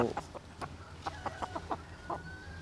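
A young Thai fighting cock gives several short clucks in a quiet spell, fairly close with a thin whistle-like tone running underneath.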